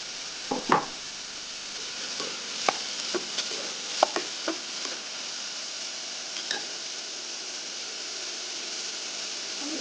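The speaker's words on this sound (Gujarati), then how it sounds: "તો આપણે અંદર કેપ્સિકમ પણ એડ કરી દઈશું અને બધાને સારી રીતે મિક્સ કરી દઈશું" Carrots, capsicum and onion stir-fried in a pan for veg Manchurian give a steady, even sizzle, broken by scattered sharp clicks and scrapes from stirring. No one speaks.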